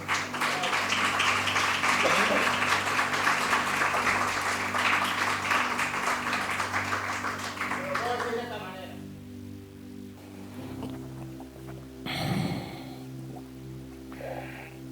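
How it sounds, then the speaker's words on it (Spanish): A church congregation claps hands in a dense, steady patter for about eight seconds, then fades to quiet, with a few bumps and a voice speaking afterward. "Dele palmas al Señor mientras me compongo."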